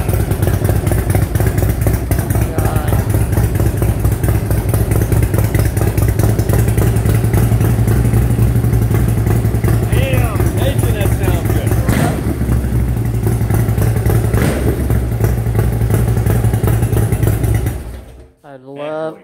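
A Harley dragster motorcycle engine runs close and loud with a rough, pulsing idle for most of the stretch before cutting off abruptly near the end; voices talk faintly over it.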